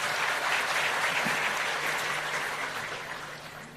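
Sustained crowd applause at a student-wing political rally where Amit Thackeray speaks in Maharashtra: a dense, steady wash of many hands clapping, loud at first and slowly thinning toward the end, with no talk over it.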